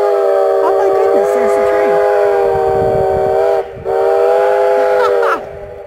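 A steam train whistle sounds near Gold Hill, Nevada, one long, loud, sustained multi-tone blast with a brief dip midway before it cuts off, rumbling in the background beneath it.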